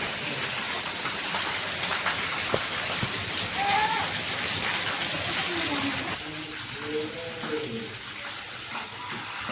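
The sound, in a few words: rain falling outside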